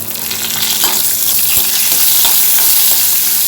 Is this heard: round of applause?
no